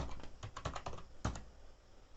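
Rapid keystrokes on a Zebronics Judwaa 555 USB keyboard come as a close, noisy burst of clicks, ending in one heavier thump like a spacebar or enter press, then quiet, with no talking.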